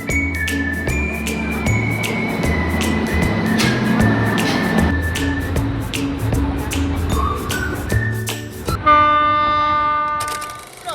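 A train rolls past close by on the way to Porbandar, its wheels clattering in a rhythmic run while the horn sounds in several long blasts, ending in a sustained chord-like honk.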